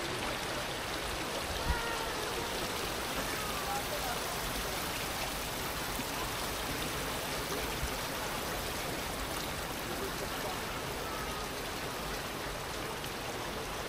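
Water rushes steadily past a village water wheel in Fontaine-de-Vaucluse, Provence, a continuous even hiss and burble held at a moderate, unchanging level throughout.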